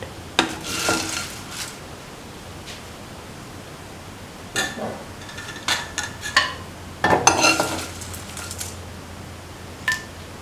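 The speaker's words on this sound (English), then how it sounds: "All the chilies can be taken off the pan onto the plate." Chilies being scraped from a frying pan onto a plate, heard as scattered metallic scrapes and clinks of a utensil against the pan. The clinks come in short clusters over a steady hiss of background noise.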